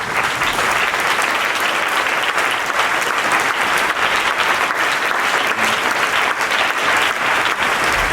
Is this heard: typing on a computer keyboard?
no